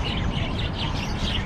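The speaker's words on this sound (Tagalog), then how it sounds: "Ayan, mga ibon." Birds chirp and tweet inside a pet shop in Salalah, Oman, where budgies are sold, with thin high calls scattered over a steady, busy background hum throughout.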